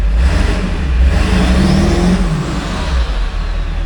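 A 1999 Ford F-350 dually with a 7.3 liter engine runs steadily at close range, a loud continuous low diesel rumble with no talk over it.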